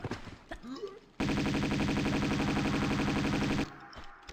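Uzi gunfire from Tomb Raider II: a dense, loud, rapid automatic burst lasting about two and a half seconds, bracketed by quieter game sounds and brief talk.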